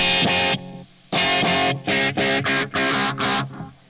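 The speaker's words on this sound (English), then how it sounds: "So I put on this echo, right? And the repeats are so hard, so loud" Distorted electric guitar runs through a pedalboard echo effect with loud, hard repeats, choppy bursts of chords cutting in and out close and strong, with no talk over it.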